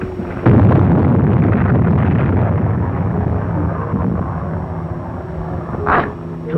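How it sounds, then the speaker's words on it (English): A torpedo fired from a U-boat explodes in a war documentary effect, opening with a sudden heavy boom and then a long rumbling roar that slowly fades, with a brief sharp burst near the end. "Erste Torpedo fertig machen zum Schuss."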